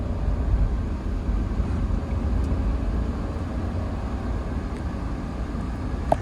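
A Jaguar X308 left idling, a steady low rumble holding evenly throughout with no talk over it.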